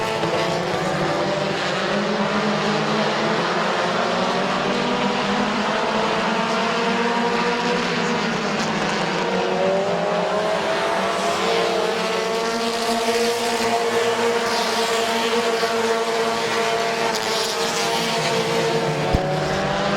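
Race cars thunder around Midvale Speedway in a continuous loud engine roar, with pitch rising and falling in long sweeps as the cars pass and accelerate. No talk is heard over the engines.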